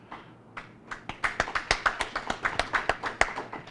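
An audience at a book launch applauds the author, starting with a few scattered hand claps that quickly build into steady, fairly close clapping from a small group.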